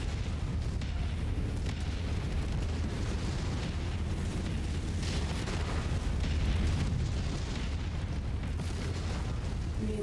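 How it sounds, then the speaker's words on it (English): Missile strikes and explosions in MechWarrior 5 battle, a dense continuous roar of booms and blasts rumbling loudly throughout with no clear pauses. "Incoming missile."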